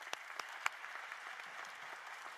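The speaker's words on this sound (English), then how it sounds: "Let's give them another round of applause." Faint, distant applause from the audience at a KIPP Oak Cliff Academy graduation ceremony, a soft continuous patter with a few sharper claps standing out near the start.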